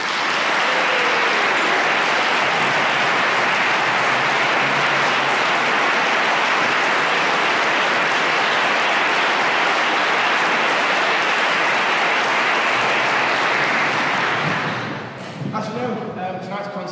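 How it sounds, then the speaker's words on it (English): Sustained audience applause for a brass band, soloist and conductor at a charity concert, loud and dense for about fifteen seconds before tapering off into scattered claps and murmuring. "I'd just like to give a round of applause to the band"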